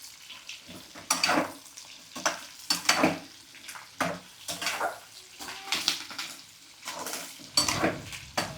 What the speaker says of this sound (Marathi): असे मिक्स करून घ्यायचे तेलामध्ये.